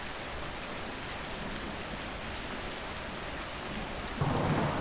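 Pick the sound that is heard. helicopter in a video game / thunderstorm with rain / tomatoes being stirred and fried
thunderstorm with rain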